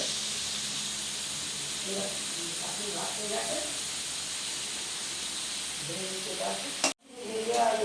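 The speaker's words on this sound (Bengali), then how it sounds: "এখন এখানে আলু ভাজা হচ্ছে।" Steady frying hiss with crackling oil sizzle from potatoes frying in oil, then a sudden cut and brief quieter sizzle near the end.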